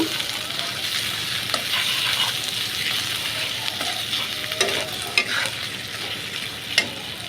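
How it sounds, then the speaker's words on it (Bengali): Dried fish mash with ground pointed gourd peel and turmeric stirred steadily in a pan, a continuous scraping hiss with a few sharper utensil scrapes near the end, close and alone. "সব বাটা উপকরণ দিয়ে হালকা একটু নেড়ে নিব"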